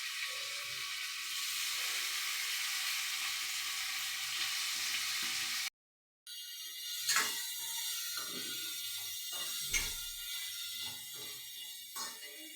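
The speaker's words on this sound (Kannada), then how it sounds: "ಈಗ ಕಟ್ ಮಾಡಿರೋ ಪನ್ನೀರ್ನ ಸೇರಿಸ್ಕೊತಾ ಇದ್ದೀನಿ ಫ್ರೈ ಮಾಡೋಕ್ಕೆ" Cut paneer fries in oil with a steady sizzling hiss, then after a brief cut, quieter crackling with scattered clicks and knocks from a utensil.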